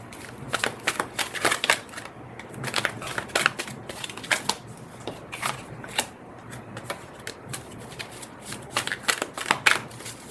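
Tarot cards are shuffled by hand in quick, repeated riffles and slaps, a close, crisp series of papery bursts in uneven rhythm, with no voices.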